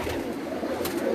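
Soft, continuous cooing of pigeons kept indoors in a rooftop loft, a low rolling murmur close by with no voices.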